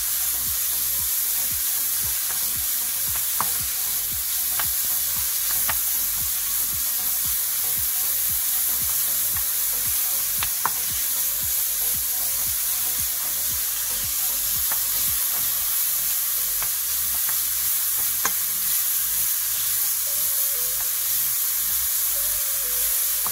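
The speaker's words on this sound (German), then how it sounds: "Nun lassen wir unseren Speck in der Pfanne auf." Bacon fries in a very hot pan, a dense, continuous sizzle that stays steady throughout with occasional pops and crackles.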